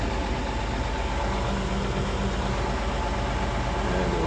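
A farm tractor engine idles steadily with a deep, constant rumble while it is put in gear for disking clover residue and oat regrowth in a field, close and alone with no talk.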